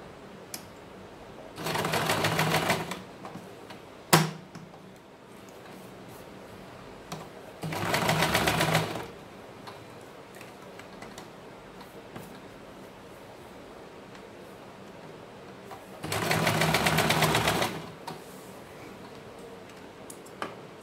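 An electric sewing machine stitches elastic onto an umbrella skirt in three separate bursts of rapid, close whirring, with quiet pauses and a single sharp click between the runs.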